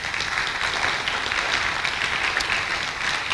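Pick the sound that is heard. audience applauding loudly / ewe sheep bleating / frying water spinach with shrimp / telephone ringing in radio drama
audience applauding loudly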